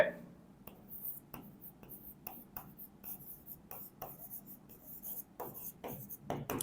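A pen scratches across paper in short bursts while an accounting ledger entry is written by hand, close and quiet, with faint low speech underneath.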